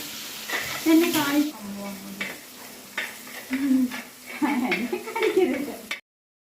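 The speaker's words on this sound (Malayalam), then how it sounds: "ഉലുവയും കടുകും പൊട്ടി വന്നു അപ്പോൾ നമുക്ക് കുറച്ച് വെളുത്തുള്ളിയും ഇഞ്ചി പേസ്റ്റ് അതിനകത്തേക്ക് ഇട്ട് കൊടുക്കാം" Ginger-garlic paste fries with crackled mustard seeds and fenugreek in oil for a fish head curry, giving a close, steady sizzle with stirring scrapes, while someone talks over it.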